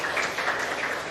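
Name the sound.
applause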